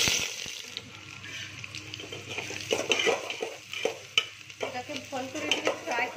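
Onions frying in hot oil for a homestyle mutton curry, a steady sizzle with stirring and scraping in the pan, close and fairly loud, with occasional clinks of utensils.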